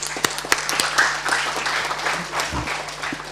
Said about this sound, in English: please give applause for him